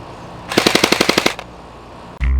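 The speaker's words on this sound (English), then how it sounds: "Just like an actual AK, magazine loads the same. Full automatic." An airsoft AK rifle fires a single full-automatic burst of about ten rapid, sharp cracks in even rhythm, loud and close, followed by a brief mechanical clunk.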